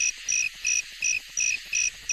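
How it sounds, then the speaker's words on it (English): Crickets chirping in steady repeated bursts, six pulsed trills evenly spaced, faint and alone with no voices. "I would sit there for 3 hours waiting for the damn crickets to chirp"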